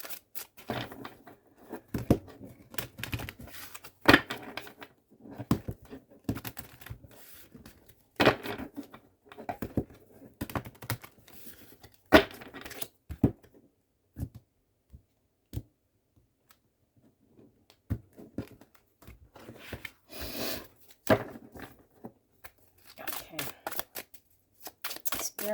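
Tarot cards being shuffled in repeated riffling bursts with sharp flicks and taps, close up, with brief pauses and occasional quiet talk.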